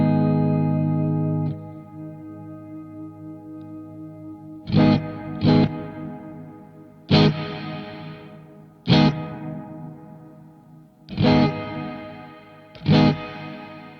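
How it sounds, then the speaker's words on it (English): Electric guitar played through a Strymon NightSky reverb pedal with its high pass filter engaged, a sustained chord fading away, then sharp strummed chords struck every couple of seconds, each trailing into a shimmering reverb tail. "Now this is how you can do high pass and low pass stuff."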